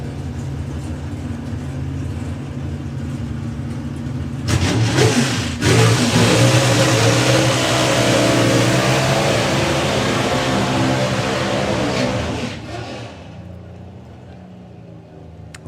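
An FIA Pro Stock drag racing car does a burnout at the European Finals, its engine revving up to a loud, sustained roar with tyre noise for several seconds before dropping away, while a commentator talks underneath.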